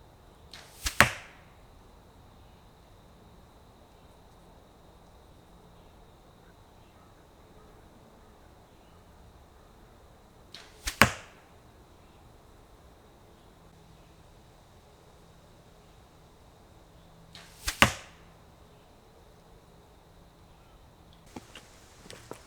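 Arrows loosed from a bow at a 3D target 50 yards away land with three sharp, isolated thwacks spaced several seconds apart, over a quiet outdoor hush.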